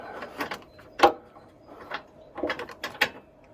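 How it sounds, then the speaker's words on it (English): A spanner being worked onto a bolt on the V8 engine of a Marcos Mantula in its engine bay, giving a scattered run of sharp metallic clicks and clacks at close range, with no talking. "Can't put the bloody spanner on it."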